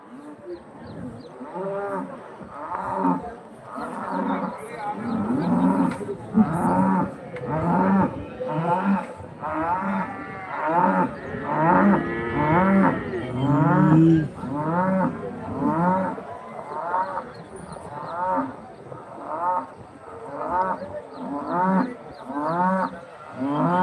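Cattle bellow over and over at a livestock market in Bagalur where native cattle, buffalo, HF and Jersey cows are traded, the loud drawn-out moos following one another almost without pause.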